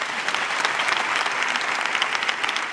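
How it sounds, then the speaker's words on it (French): Lively audience applause at a stand-up comedy show, brisk continuous clapping with a few sharper individual claps standing out, close and fairly loud throughout. "Applaudissez-vous."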